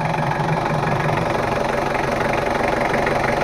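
A Mitsubishi L300 diesel engine idles roughly and steadily, a continuous knocking clatter heard up close with no talk over it.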